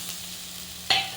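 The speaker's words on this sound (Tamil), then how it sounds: "இப்போ நம்ம அரைச்சி வச்சுருக்க தேங்காயை இதில் சேர்த்துருவோம்." Ground coconut sautéing in a pan for modak filling gives a steady soft sizzle, then a sudden sharper hiss bursts in near the end and carries on, close by with no talk.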